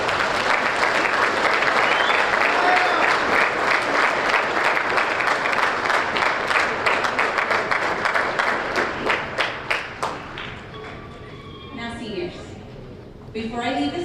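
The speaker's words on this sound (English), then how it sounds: "join me in a grand applause for Mr." Sustained applause from a graduation ceremony audience welcoming a speaker, dense and loud for about ten seconds, then thinning into scattered claps that fade out near the end.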